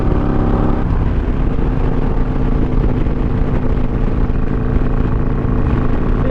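A Harley-Davidson Iron 883 Sportster motorcycle runs in third gear with a loud, steady, low-pitched engine rumble that stays close and constant throughout, without any clear rise of a rev.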